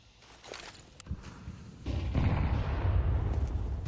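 A grenade detonates in a competitive shooter match: scattered gunshots and footsteps first, then a heavy low boom that swells into a sustained rumble, fairly close and loud.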